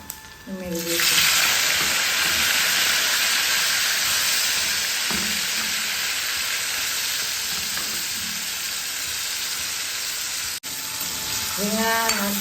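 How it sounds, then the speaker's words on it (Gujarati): Eggplant fries and is stirred in hot oil with mustard seeds, cumin, asafoetida and crushed garlic, a loud steady sizzle with occasional spoon scrapes and brief talk at the start and end. "રીંગણા નાખ્યા બાદ આપણે તેને તેલમાં હલાવીશું, સાતરવા દઈશું."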